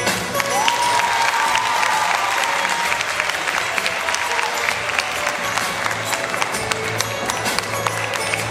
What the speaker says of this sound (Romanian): Și acum se aplaudăm încă o dată pe bobocii noștri.